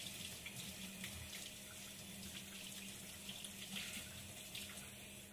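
Tap water runs steadily into a sink while a rockfish belly is rinsed, giving a continuous close splashing hiss with no talk.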